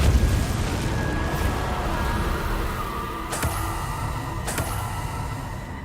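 Confringo and Convulso spell blasts in the Hogwarts Legacy video game, heard as a steady roaring rumble with two sharp bursts near the end, loud and continuous with no talking.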